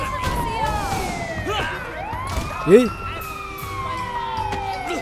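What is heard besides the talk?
police car siren in video game Sleeping Dogs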